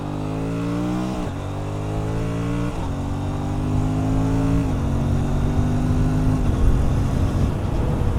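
An Aprilia RS 457 motorcycle engine revs loud and close, pitch climbing and then stepping abruptly at each quickshifter upshift and downshift, several shifts in a row with no voices.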